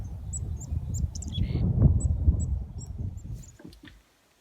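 Short high chirps and tweets from a small bird repeat through the clip over a low, rustling outdoor background, with no voices.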